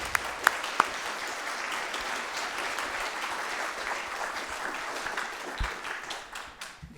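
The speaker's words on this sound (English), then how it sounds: "let's give a round of applause to our Presidential Colloquium winners" An audience at a university research day applauds the Presidential Colloquium winners, a full, steady wash of clapping after a few sharp near claps at the start, tapering off toward the end.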